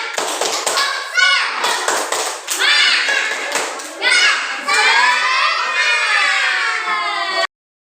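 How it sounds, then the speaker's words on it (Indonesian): Kindergarten children in class group B1 perform the tepuk semangat clapping chant together, sharp rhythmic claps interleaved with loud, high sung-shouted voices, close and lively, ending abruptly. "kalau setuju kita tepuk semangat bersama-sama ya"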